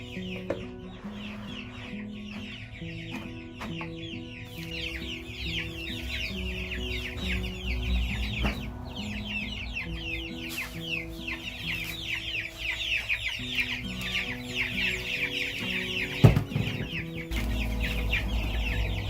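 Meat chickens cluck steadily in a flock, a busy overlapping chorus of close clucks and calls that continues throughout with no talk.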